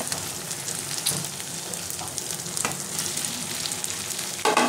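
Potato and cauliflower pieces fry in spiced oil for a phulkopi rezala as they are stirred in the pan, a continuous loud sizzle with scraping spoon strokes and occasional clanks against the pot.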